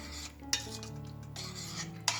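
A spoon stirs vinegar into a pot of hot and sour soup, with two sharp clinks against the pot over a low churning swish, close and with no talk.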